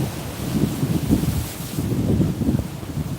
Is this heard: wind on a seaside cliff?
yes